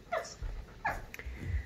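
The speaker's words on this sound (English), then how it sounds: "that is a dog that we're training right now, Gus." A small dog of about 25 pounds, in training, makes soft short whimpers and yips close by, a few thin cries separated by quiet breathy gaps.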